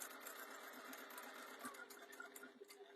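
A sewing machine stitching a jewellery pouch, running in a steady, fast mechanical whir with rapid needle ticking, close but quiet, continuous throughout with no talk.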